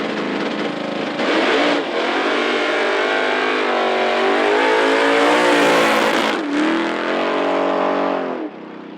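A drag racing car at Knoxville Dragway makes a solo competition bye run, its engine roaring loud and close with a steady high-revving drone that sweeps through the gears before cutting off near the end.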